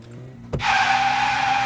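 A Satsuma car in a video game skids: a sharp thump, then a loud, sustained tire squeal that carries on to the end over a low engine hum.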